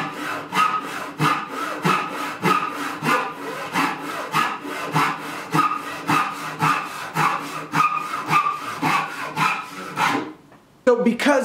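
A Japanese crosscut saw rips through wood in fast, rhythmic rasping strokes, close and loud, keeping a steady pace before a brief pause and a final few strokes.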